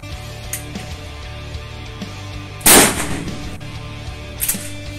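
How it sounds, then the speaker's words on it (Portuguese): A single close, sharp shotgun blast from a CBC Military 3.0 pump shotgun with a 16-inch barrel, firing High Impact CBC SG buckshot at 30 metres on an outdoor range, followed by a brief decay and faint distant pops. "Segundo disparo a 30 metros"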